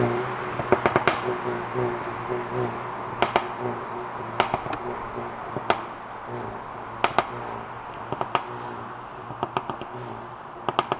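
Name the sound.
Mercedes A35 AMG exhaust pops and crackles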